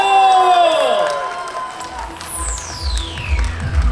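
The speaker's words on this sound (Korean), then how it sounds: "박수 부탁드립니다. 박수 주세요." A crowd at the Boeun jujube festival in Korea claps and cheers loudly for a trot singer's stage as bright music swells and whooshes in the background.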